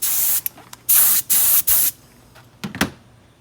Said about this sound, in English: So we've got a Frisbee here we're also going to spray.